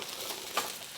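Vegetables sizzle briefly in a hot wok during a stir fry, with steady frying hiss and a faint clink.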